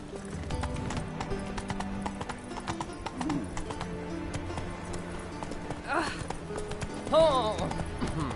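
Roach, the horse in The Witcher 3 on PS4, trotting with steady clip-clop hoofbeats among game ambience and music, with a whinny near the end and a character speaking briefly.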